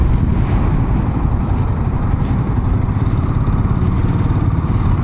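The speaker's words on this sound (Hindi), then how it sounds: "बाइकर्स भाई, दिल्ली की 2 बाइक्स" Motorcycles pass on a highway, a close, continuous rumbling road and engine roar with wind buffeting the microphone, heard from a moving vehicle without talk.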